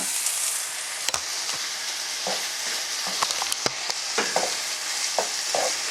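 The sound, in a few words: stirring sautéed aubergine with chopped herbs and garlic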